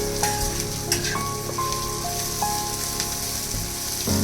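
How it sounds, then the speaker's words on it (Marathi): Onion sautés in a pan as the start of a spicy prawn masala, giving a steady close sizzle with scattered crackles and a few faint metallic stirring clinks. "कांदा चांगला परतून घ्यायचा आहे."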